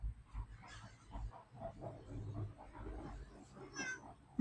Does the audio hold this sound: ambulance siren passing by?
no